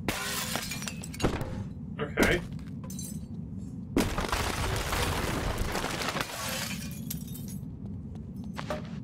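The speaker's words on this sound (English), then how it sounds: "Try breaking the glass." Security glass shatters repeatedly in the Boneworks VR game, with loud crashing breaks and scattered debris clinks, while a person talks briefly over the noise.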